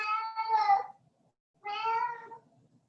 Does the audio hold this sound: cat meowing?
yes